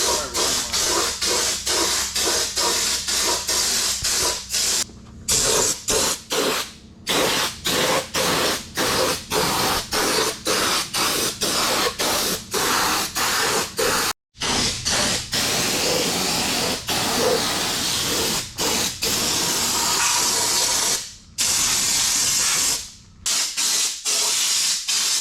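Raptor bed liner hisses almost continuously from a spray gun onto a Honda Pioneer 700 side-by-side, loud and close, broken only by a few brief trigger releases and faint regular clicks.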